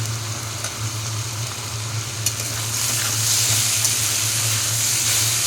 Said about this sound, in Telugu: ఇలా వేయిస్తూ ఉండాలి